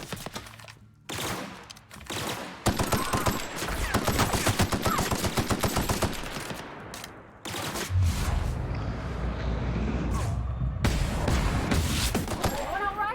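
Rapid bursts of automatic gunfire and single shots in The Outer Worlds, a first-person shooter played in co-op, crackling loud and close in dense volleys across most of the stretch, with short pauses between bursts.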